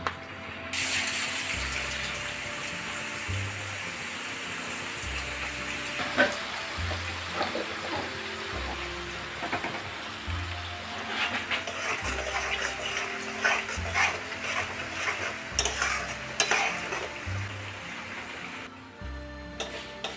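Shredded potatoes for jhuri alu bhaja fry in hot oil over a low flame, a bright continuous hiss and crackle with occasional scraping knocks from stirring, steady and close.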